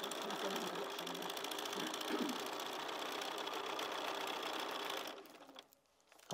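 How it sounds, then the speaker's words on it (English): A sewing machine stitches a foundation paper pieced quilt block, running in a fast, even mechanical whir with rapid needle clatter for about five seconds before slowing and stopping. "I'll go over to the machine now. And you're going to sew along."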